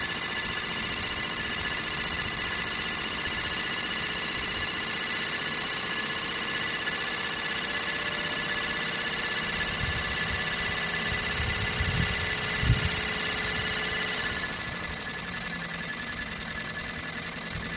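A Sirius steam engine driving a generator, with an oil separator and plumbing on the exhaust, runs steadily with a continuous mechanical hum and whine, fairly loud and close, with a few small knocks near the end.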